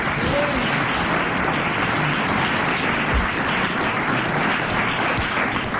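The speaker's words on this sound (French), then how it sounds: "des applaudissements" A studio audience at a French radio comedy panel show breaks into sustained applause, a thick, even roar of clapping held at steady volume throughout.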